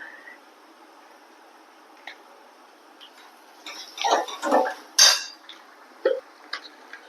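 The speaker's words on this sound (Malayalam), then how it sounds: "മസാലയുടെ പച്ചമണം പോണവരെ ഒന്ന് ഇളക്കി കൊടുക്കുക" Chicken masala stirred in a pan, faint at first then a burst of clinking spoon-on-metal scrapes and taps in the middle, fading to sparse knocks.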